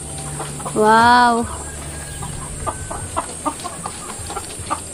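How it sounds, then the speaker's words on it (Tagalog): A native chicken gives a drawn-out call, then scattered soft clucks follow over a steady background hum; a person briefly speaks. "Manok."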